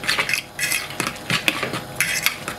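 A spoon scrapes and clinks against a bowl as ham, peppers, tomatoes and spring onion are stirred together, a quick run of close, bright metallic taps and scrapes with no talking.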